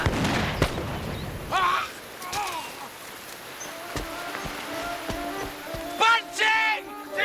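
Cannon fire aboard a warship in a naval radio drama, heavy booming blasts scattered across the scene, with someone shouting and other voices calling out over the noise.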